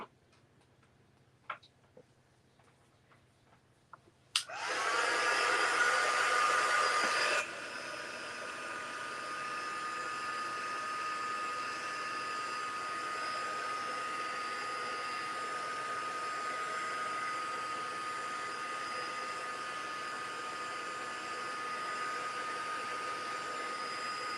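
A hair dryer drying a scrapbook page switches on loud and close, blows steadily for about three seconds, then continues on a lower, quieter setting for the remainder with no talk.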